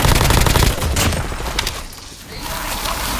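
Shotgun gunfire in a video game, a dense burst of loud, close blasts and booms that fades out and then picks up again as a rumbling barrage.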